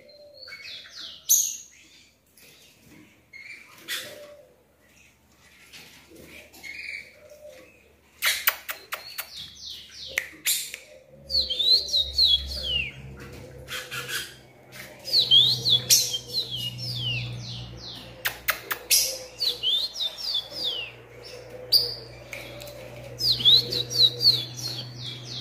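A female rufous-collared sparrow in a cage sings repeated bright, high chirps and tweets in quick bursts, close and clear, with rustling and a low background hum growing beneath the later calls.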